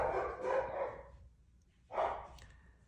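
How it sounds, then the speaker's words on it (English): Dogs bark indoors in two short, fairly loud bursts separated by a quiet gap, with no talking over them. "the fact that my dogs just started like meh, meh, meh"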